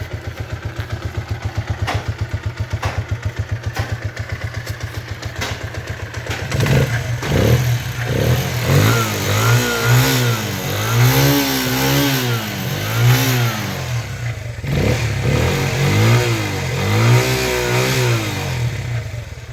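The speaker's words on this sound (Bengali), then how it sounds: "গাড়িটির নিউট্রাল অবস্থায় আপনাদেরকে সাউন্ড শোনানো হচ্ছে।" A Keeway K-Light 150 motorcycle engine idles in neutral, first with a quick even putter, then revving in repeated rising and falling surges, loud and close with a clattery mechanical edge, and no talking over it.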